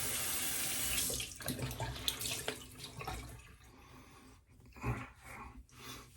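Tap water runs steadily into a sink while a razor is rinsed after a shave, the flow loud and close at first, then breaking into uneven splashes and gurgles as the blade is moved through the stream.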